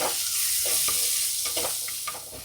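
Green chillies and curry leaves sauté in hot oil for a prawn roast, making a dense continuous sizzle with a few soft stirring scrapes over a brief stretch.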